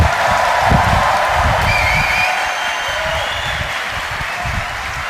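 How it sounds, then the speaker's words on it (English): Big crowd applause at the WRO International Final 2022 robotics competition, loud dense clapping that holds steady throughout with a few cheers and whistles rising above it. "We try it with a really big applause, ladies and gentlemen."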